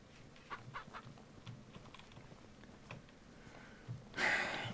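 Chickens in the farming game Ranch Simulator give soft, scattered clucks at low level, followed by a brief louder burst of game sound near the end.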